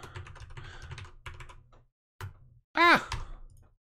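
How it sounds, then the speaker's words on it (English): Close, quick keystrokes on a computer keyboard come in short bursts separated by pauses, followed by a brief sigh-like breath near the end. "Showcasing my keyboard skills."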